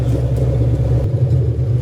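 A UAZ off-road vehicle with a 300 hp engine runs close and loud, a steady deep rumble whose low end drops away about a second in, with no voices over it.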